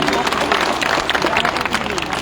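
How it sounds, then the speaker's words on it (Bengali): Audience at a Bengali TV singing show clapping for the singers' mothers, a loud dense burst of applause with crowd noise and voices mixed in. "আমাদের শ্রদ্ধেয় মাদের জন্য একটা জোরে হাততালি হয়ে যাক।"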